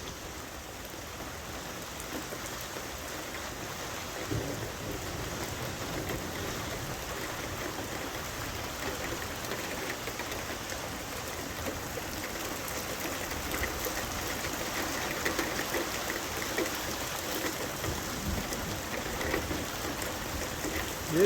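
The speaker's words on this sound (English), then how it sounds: "It's raining, guys." Steady rain pours through a night thunderstorm, a constant close wash of falling water with no distinct thunderclap standing out across the stretch.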